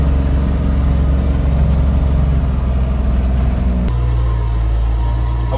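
A Claas Xerion tractor engine runs after a cold start, a loud, deep rumbling idle close by that holds steady, then drops to a lower, smoother tone partway through.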